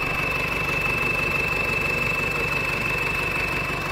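A Sonalika 750 tractor engine idles steadily nearby, a continuous loud mechanical drone with a constant high whine, no talk over it.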